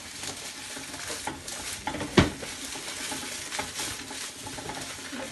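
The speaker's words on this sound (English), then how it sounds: "We're going to take our shreddies and we're going to put them in a bowl" Crushed Shreddies cereal is tipped into a bowl, giving a soft, dry rustling patter with one sharper knock partway through, close and fairly quiet.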